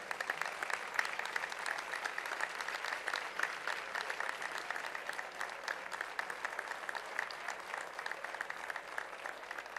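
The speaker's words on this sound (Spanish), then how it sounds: "Un fuerte aplauso para él también." An audience at a civic honours and distinctions ceremony in Valdepeñas applauds, dense continuous clapping heard from a little distance, steady and moderately faint for the whole stretch.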